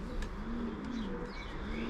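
A racing pigeon gives a low, rolling coo close by, continuous for a moment against faint background noise.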